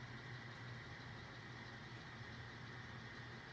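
Non-turbo GP15 diesel locomotive sound from an N scale model train, a steady throaty idling engine rumble that stays constant and fairly faint throughout, with no talk.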